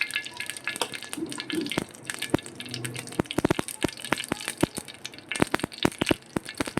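Mustard seeds crackling and popping in hot oil for a tempering, a rapid scatter of sharp snaps and pops close by over a low bubbling sizzle, with no talk.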